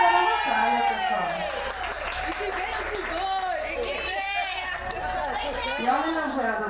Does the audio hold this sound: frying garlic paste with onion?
no